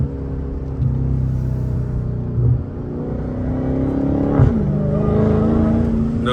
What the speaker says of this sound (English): you hear that supercharger up in that thing